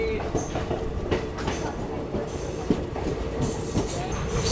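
Shalimar Express train pulling out of Modi Nagar station, a steady rumbling roll of wagons with clacking wheel beats and brief high squeals, close and continuous, with voices murmuring in the background.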